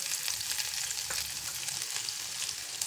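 Two spoons of finely chopped garlic hit hot oil left over from frying paneer for chilli paneer, giving a steady, close, bright sizzle with crackling that holds evenly throughout and has no talk over it.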